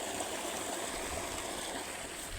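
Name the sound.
rainwater flowing strongly after heavy rain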